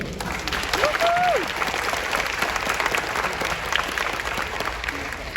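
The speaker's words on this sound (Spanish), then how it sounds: "creo que nos ganamos un aplauso por eso" A conference audience at DevOps Day Medellín breaks into loud, sustained applause that fills the room evenly, with a voice briefly audible early on over the clapping.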